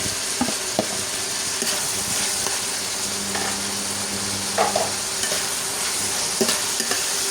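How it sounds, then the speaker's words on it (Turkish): Onions and peppers fry in a pan in a home kitchen, hissing steadily up close while a spatula clicks and scrapes against the pan at irregular moments. There is no talk. "şöyle soğanımı kavurayım."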